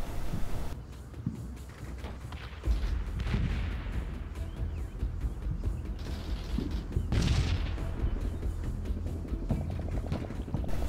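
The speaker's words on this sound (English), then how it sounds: "It will be shelled by mortars to suppress them." Mortar shelling in the tactical war game Combat Mission Shock Force 2 during an assault on German defenders: heavy booms and rumbling impacts roll in irregularly over a constant low battlefield drone, with creaking mechanical sounds mixed in.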